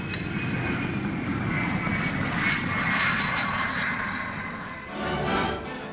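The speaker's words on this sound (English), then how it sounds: "Coming in to land low and fast, the pilot uses a tail parachute to act as a brake." An experimental Flying Triangle aircraft sweeps in low and fast to land at Farnborough in 1950, its engine a loud, steady roar that swells and then shifts as it passes close by.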